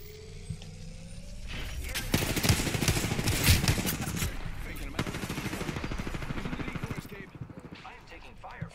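Gunfire rattles in the video game Apex Legends as loud, rapid bursts over several seconds, with a voice talking through the shooting.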